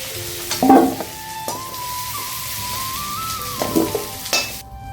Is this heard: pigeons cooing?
no